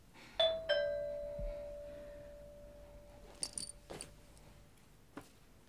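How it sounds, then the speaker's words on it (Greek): A doorbell rings indoors with two clear chime tones in quick succession, the second tone ringing out and slowly fading, followed by faint knocks and small household sounds. "Το κουδούνι δεν θα ανοίξεις?"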